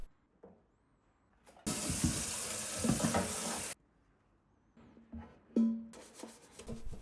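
Water pours out of a Philips XXL dual-basket air fryer with steam, draining after its auto-clean cycle, in a loud steady gush lasting about two seconds, with faint kitchen clatter before and after.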